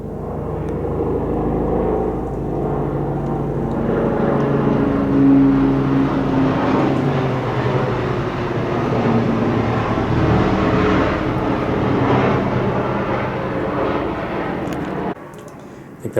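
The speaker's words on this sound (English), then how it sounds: "And here comes the helicopter right on time." A steady mechanical rumble and whir of a helicopter builds and holds for several seconds as it passes overhead, then cuts off abruptly.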